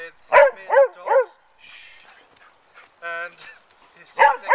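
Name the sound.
dogs barking excitedly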